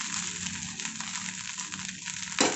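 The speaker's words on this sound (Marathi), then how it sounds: "एक चार ते पाच मिनिट फुल गॅसवरती असा सर्व परतून घ्यायचा भात" Street-style fried rice is stir-fried in a pan over full gas flame, giving a soft continuous sizzle with faint stirring scrapes and a brief louder scrape near the end.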